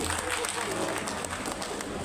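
An audience at an SMAN 2 Kota Padang Quran memorization graduation ceremony gives a steady, quiet round of applause, a soft, even wash of clapping with talk faintly underneath.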